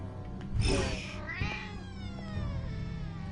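A cat lets out one loud, drawn-out meow followed by a shorter second cry in Batman: The Telltale Series, set against a low steady background hum.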